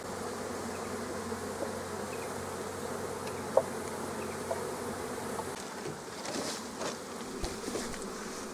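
Honey bees buzz in a steady, dense drone as they pour out of hive super frames during removal, with a few faint knocks and handling sounds near the end.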